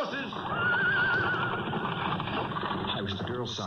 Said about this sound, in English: rein in your horses!